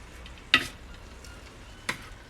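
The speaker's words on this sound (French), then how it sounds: "On mélange un petit peu." Frozen peas being stirred into a tajine, giving two brief scraping stirs about a second apart over a quiet background, close and fairly soft.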